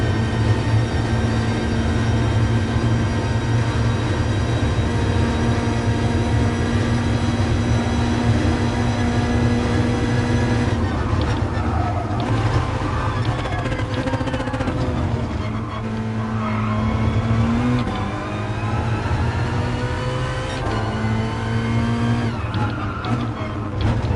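An Alfa race car's engine drones loudly in Gran Turismo Sport during a Nations Cup championship race, a sustained high-revving tone with pitch shifts through gear changes and corners, joined by other cars around it.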